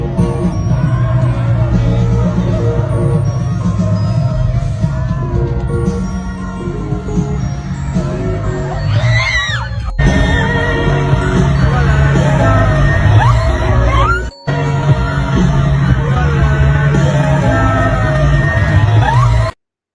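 A large crowd at a concert yells and whoops continuously during a domino fall, loud and dense, with shouts rising over a steady roar and brief cuts near the middle and end.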